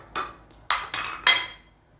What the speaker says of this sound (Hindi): ये हम इसको प्लेट में निकाल लेंगे